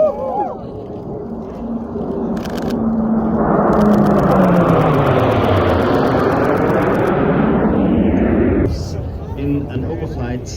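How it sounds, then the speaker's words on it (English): An F-35A fighter jet passes overhead at the AXALP 2022 airshow, a broad roaring rumble that swells over several seconds and then fades, with crowd noise and speech around it. "Unser zukünftiges Einsatzmittel Jet, der F-35 Alpha."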